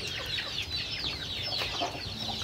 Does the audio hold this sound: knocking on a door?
no